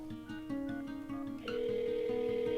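A telephone line rings while a call is placed to the Perry County Health Department, with steady repeating ring tones sounding clearly on their own, no voices.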